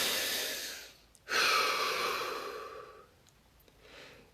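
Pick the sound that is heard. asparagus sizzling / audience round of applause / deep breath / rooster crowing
deep breath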